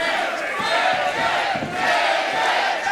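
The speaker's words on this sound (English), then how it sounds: "Got the crowd cheering him on." Boxing-match crowd roars and cheers in a dense, continuous wash of many voices, loud and sustained for the full few seconds.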